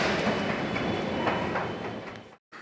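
A metro train rumbles and clatters in a broad, continuous roar, loud and close as from inside the carriage, then cuts off abruptly near the end.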